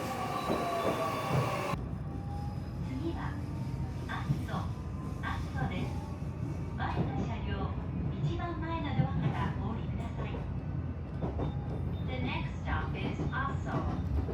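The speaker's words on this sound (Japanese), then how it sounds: "白浜駅から JR 紀ノ国線に乗って初島駅を目指します。" Local train on the JR Kinokuni Line along the Kii Peninsula coast: a steady rolling rumble with intermittent wheel squeals and rail clatter, continuous and fairly close, running under faint speech.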